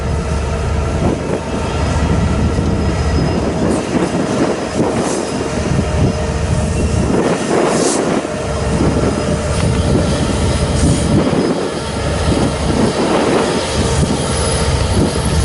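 Three heavy Union Pacific diesel locomotives rumble steadily at idle in Fairbury, Nebraska, a loud continuous mechanical drone with a faint high squeal above it and no talking.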